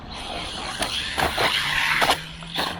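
A JJRC C8805 RC basher car runs at full throttle, its small electric motor whining with bursts of tire scrabble and skidding noise over a few seconds.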